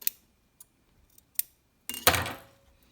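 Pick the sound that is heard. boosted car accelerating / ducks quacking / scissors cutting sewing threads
scissors cutting sewing threads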